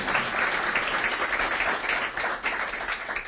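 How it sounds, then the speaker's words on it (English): Audience applause at an affordable housing groundbreaking ceremony: steady, dense clapping from a crowd, fairly close and sustained throughout, with no talk over it. "you can clap."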